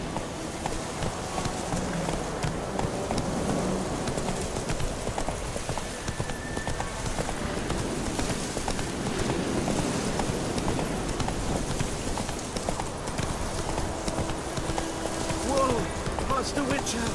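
Hooves of the horse in The Witcher 3 clip-clopping at a gallop, a rapid continuous drumming under game ambience, moderately loud, with voices speaking over it.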